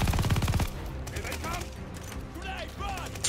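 Blind fire in the Call of Duty: Vanguard campaign comes as a loud, rapid burst of automatic gunshots, followed by scattered shots and whizzing effects.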